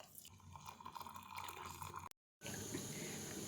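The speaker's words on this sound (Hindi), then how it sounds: "अब इस चाशनी को हम उतार लेंगे और किसी बर्तन में डाल लेंगे" Thick jaggery syrup pours and trickles steadily from a pot into a vessel in a home kitchen, faint and close, with a brief silent cut before the liquid noise resumes.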